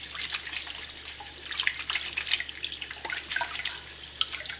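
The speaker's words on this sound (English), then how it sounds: "I'm going to rinse that off." Water runs from a kitchen tap over a cleaned razor clam, a steady hissing splash with small drips and gurgles, close and fairly loud with no talking.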